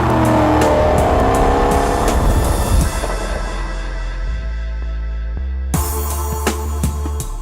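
A 2014 Porsche Panamera GTS engine revs hard and climbs through the gears, each rising pitch sweep cut by a shift, loud and steady with no talking.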